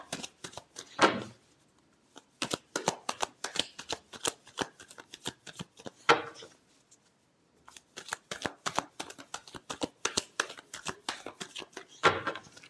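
Tarot cards riffle and shuffle close up in quick bursts of sharp papery flutters, with three brief pauses between rounds and a final flurry at the end; no one speaks.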